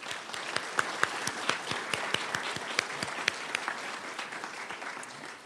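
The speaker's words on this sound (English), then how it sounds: "Please join me in expressing our heartfelt appreciation for our college leadership with a round of applause." An audience at a college nursing pinning and stole ceremony gives the college leadership a steady round of applause, a continuous crowd of clapping with crisp individual claps popping through, tapering slightly toward the end.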